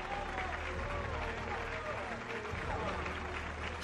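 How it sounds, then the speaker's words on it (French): Crowd applause for a future Los Angeles mayor at a campaign event in a 1994 action film, a steady distant wash of clapping beneath a low background hum, with voices mixed in. "applaudissons ensemble le futur maire de Los Angeles"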